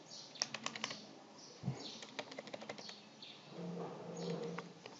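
Keys clatter on a computer keyboard in quick irregular bursts, close and fairly loud, with a brief low thump and a steadier hum partway through; no one speaks.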